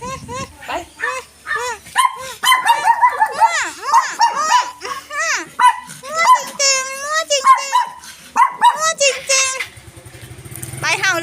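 Several dogs bark and yip excitedly, some high and whiny, in a dense, overlapping stretch while people talk loudly nearby, with a low engine rumble near the end.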